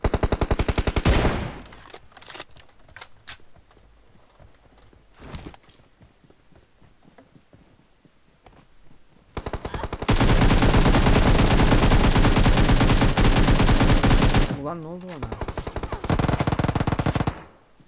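Rapid automatic gunfire from a video game shooter rattles out in dense bursts, with a long sustained volley in the middle and a shorter burst near the end, broken by quieter stretches of scattered shots.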